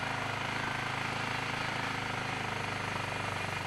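An ATV engine runs on a kibbutz in the Golan Heights, a loud, steady rapid chugging throb heard close up without pause.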